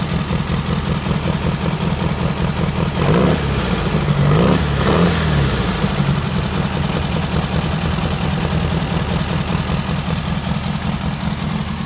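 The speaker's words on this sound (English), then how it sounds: "The more warms up, more that choke cuts back, and it'll idle even lower and lower and lower and eventually get real smooth." The engine of a 1972 VW Baja Beetle idles while warming up on the choke, a loud, close, steady air-cooled putter with a brief rise in revs near the middle.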